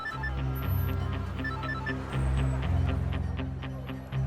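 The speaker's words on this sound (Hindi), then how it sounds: "किसका फोन आ रहा है? Unknown number?" A phone rings with a repeating electronic trill over a steady low musical bed, several short rings in a row at moderate level, the call coming from an unknown number.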